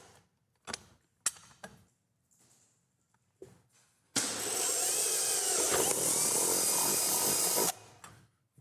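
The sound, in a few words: power drill drilling holes in a bucket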